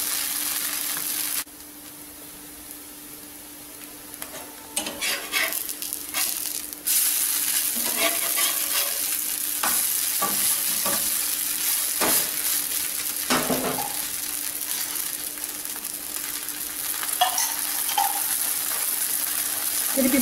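Sago thalipeeth roasts on a low flame in a pan, giving a continuous sizzle broken by scattered scraping and clinking from stirring and turning, close and steady throughout.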